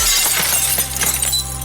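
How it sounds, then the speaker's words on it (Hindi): Glass shattering from many clocks at once, a brief bright crash of breaking glass with scattered tinkling fragments, close and fairly loud over a low steady hum. "और उसके बाद तमाम घड़ियों के शीशे एक साथ टूट गए।"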